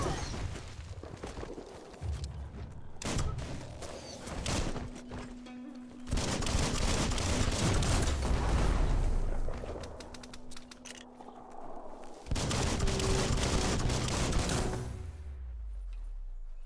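Scattered gunfire in the video game Biomutant, irregular bursts and sharp cracks of moderate loudness spread through the clip amid busy game sound, with brief lulls between volleys.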